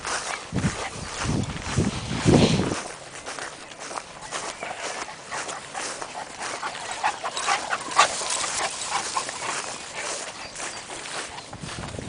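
A dog makes soft whimpers amid panting and shuffling movement, with faint scuffing sounds close by and no talking.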